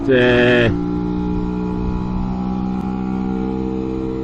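Lambretta S1 scooter with a BGM Sport exhaust, a loud high rev that drops abruptly to a steady droning idle.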